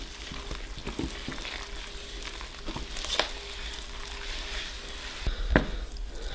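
Flour and water for ciabatta dough being stirred together by hand into a sticky mass, a quiet wet rustling broken by a few sharp clicks and knocks.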